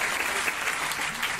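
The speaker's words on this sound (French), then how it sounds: "Un tonnerre d'applaudissements pour Joyce, s'il vous plaît." Applause from an audience at a live French stage show, a dense, steady wash of clapping that fills the whole moment without pause.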